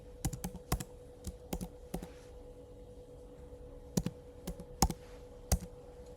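Mac keyboard keys tapped to enter a password, a dozen or so sharp clicks in short irregular bursts with pauses between, close and quiet.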